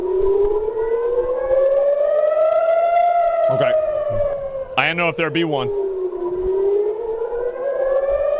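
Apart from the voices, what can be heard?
civil defense siren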